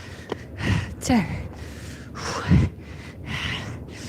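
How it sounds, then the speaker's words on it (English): A person grunts, gasps and breathes heavily during a push-up, squat and burpee workout, with several strained bursts of breath spaced irregularly and close to the microphone. "Hear the grunts, hear the breathing."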